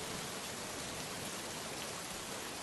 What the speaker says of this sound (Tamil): வெளியில மழை தான் வருது.